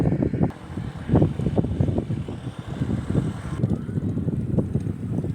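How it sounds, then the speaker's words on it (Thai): Gusty evening wind at Pasak Jolasid Dam, Thailand, buffets the microphone in loud low-pitched rumbles that rise and fall throughout, with no talking. "ขออภัยอาจจะมีเสียงลมแรงนะครับ"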